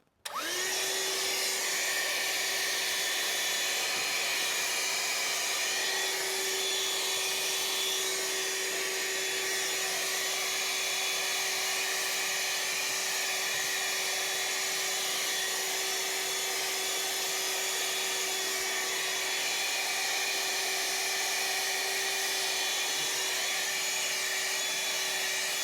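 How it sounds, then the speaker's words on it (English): Ryobi R18HV cordless handheld vacuum with a brush attachment runs steadily, a loud high motor whine with a constant tone holding from start to finish as it sucks dust from around a compound saw. "We're going to try and just get some of the dust off from around the Capex saw here."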